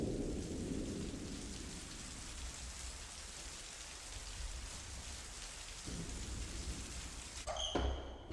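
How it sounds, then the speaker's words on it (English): Steady video game rain patters and hisses throughout, a dense wash of falling drops with a sharp crack near the end. "Love the sound of rain."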